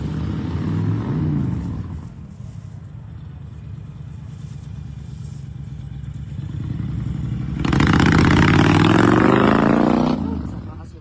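A noisy motorcycle engine drones at moderate distance, then swells into a louder, rougher roar for a few seconds near the end before easing off, with some clattering and scraping mixed in.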